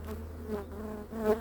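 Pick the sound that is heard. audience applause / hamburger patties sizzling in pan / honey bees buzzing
honey bees buzzing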